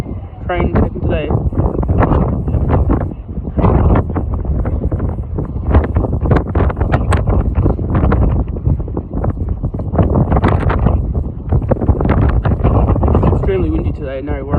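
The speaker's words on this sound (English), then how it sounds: "Extremely windy today" Strong gusts buffet the microphone at Narre Warren train station, a loud, constant rumbling wind roar heard close. Someone talks over it almost the whole time.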